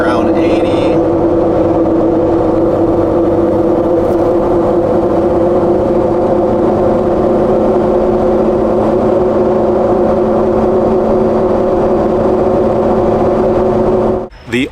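A steady, loud, tonal drone from 38-inch Milestar Patagonia M/T 02 mud tires, heard from inside a moving truck cabin and holding unchanged for the whole stretch before cutting off abruptly at the end.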